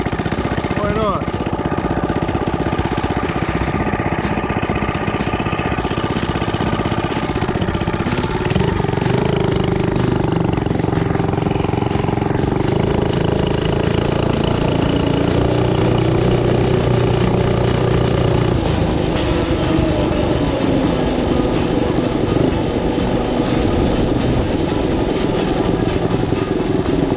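A Predator 79cc minibike engine fitted with an ARC flywheel runs steadily throughout, its raspy exhaust drone rising and falling slightly in pitch, loud and close.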